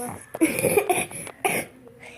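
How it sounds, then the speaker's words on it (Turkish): A few sharp coughs close by, in short bursts with brief pauses between them. "Arkadaşlar bu çok öksürüyor."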